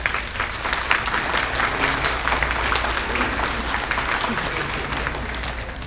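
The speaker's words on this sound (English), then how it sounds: "Let's clap from side to side for our Deputy Superintendent, Dr. Heather Cruz." A school audience of students claps steadily for several seconds, the applause full and continuous throughout with crowd murmur mixed in.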